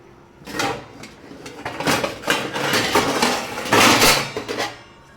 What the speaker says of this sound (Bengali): এই কড়াইটা নিয়ে নিলাম